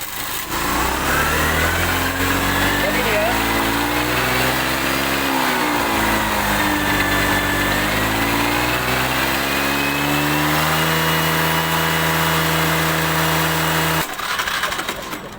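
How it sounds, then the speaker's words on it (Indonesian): A Honda Beat FI scooter engine is started and keeps running close by, idling loudly and steadily with small rises and dips in revs before cutting off near the end. "Kita starter motornya."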